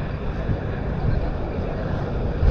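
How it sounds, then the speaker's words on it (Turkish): A low, rumbling engine drone with wind buffeting the microphone builds slightly as a boat passes nearby over the sea at Ölüdeniz, Fethiye. "Şimdi tekne geçecek ya."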